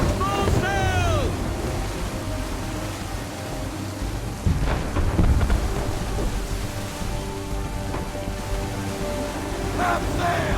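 A thunderstorm at sea in an Assassin's Creed video game, with a steady heavy roar of rain and wind, a rumble of thunder midway, and a voice briefly calling out near the start.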